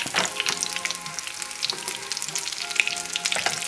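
Veal cordon bleu sizzles steadily in a pan as it is flipped, a close, continuous crackling frying hiss with a few sharper spits and pops along the way.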